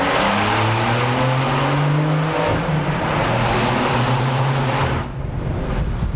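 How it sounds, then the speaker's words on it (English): A Porsche's open sport exhaust roars and echoes in an enclosed tunnel, the engine note climbing steadily through the revs in second gear, then shifting and pulling again, loud and close. "Sport exhaust is open, obviously."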